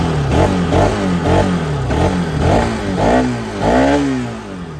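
A 2017 Bajaj Pulsar RS200 motorcycle engine revs repeatedly, its pitch rising and falling in steady bursts about once a second. It sounds loud and close, with no talk over it.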